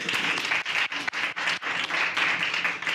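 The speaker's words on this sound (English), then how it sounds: "If you guys can just join me in giving a round of applause for him for coming today." An audience applauds at a university keynote talk, a loud, dense round of clapping with brief dips and swells that carries on across the whole stretch.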